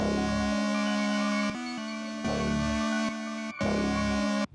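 Full melody group of an aggressive beat, switching between a dry version and one processed with a Unison Mangler unison plugin: dense layered synth tones sustain with abrupt section changes and brief dropouts, loud and alone.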